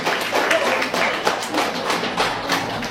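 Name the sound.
audience clapping hands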